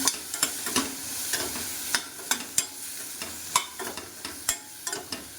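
Ground beef sizzling in a hot pan as salt and a little turmeric are stirred in: a steady close frying hiss broken by repeated sharp utensil scrapes against the pan, with no talking.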